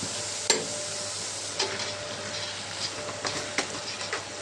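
Okra curry with chilli powder being stirred in a pan, with a constant sizzle beneath a few sharp clinks and scrapes of a spoon against the pan, close and with no voices.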